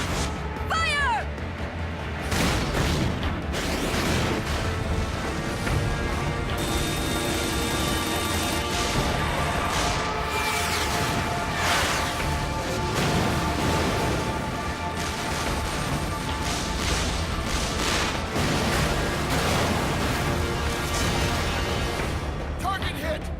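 Artillery cannon fire in Metal Gear Solid 4 during a battle, with dense, loud booming blasts and crashes rolling continuously under shouted voices and game music.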